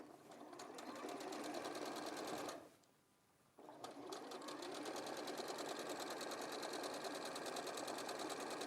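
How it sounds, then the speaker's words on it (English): A sewing machine runs steadily as it stitches around a fabric edge. Its rapid, even whirr is close and continuous, stops briefly for about a second, then starts again and keeps running without talking. "So I'll sew that all the way around."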